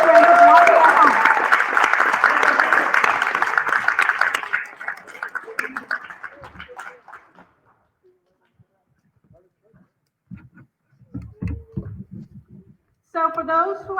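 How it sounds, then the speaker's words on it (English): Applause for graduates at an online graduation celebration rises full and dense for about four seconds, then thins into scattered claps and fades to near silence, with a few faint clicks and noises afterward. "So let's have a round of applause for all the graduates,"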